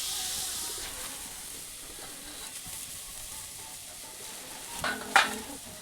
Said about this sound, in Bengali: তো এরপর এটি কিছুক্ষণ ভাজবো যতক্ষণ না পর্যন্ত নারকেলটি শুকনো হয়ে যাচ্ছে।